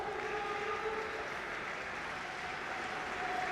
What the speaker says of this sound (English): they're applauding him, and too right they should be applauded